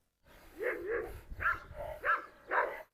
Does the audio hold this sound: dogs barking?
yes